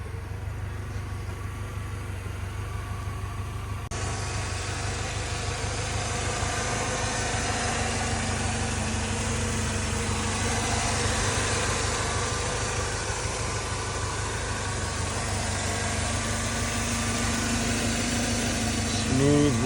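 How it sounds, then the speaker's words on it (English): A 1993 Mercedes GE230 Gelandewagen pickup with a 4-cylinder engine idles steadily and smoothly, a constant low drone with faint mechanical hum throughout, no revving. "Smooth running engine."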